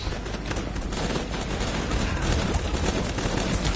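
Continuous dense gunfire and explosions from the video game Guns Up!, a sustained loud barrage of overlapping shots with a faint voice underneath.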